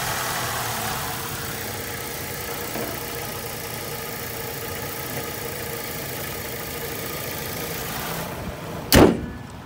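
A 2003 Daewoo Lanos SX engine idles smoothly at a steady, even hum close by, then a sharp car door slam near the end cuts across it.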